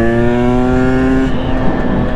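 A 2020 KTM 300 EXC TPI two-stroke dirt bike engine revs hard and steadily, its buzzing harmonic drone close and loud, easing off slightly toward the end.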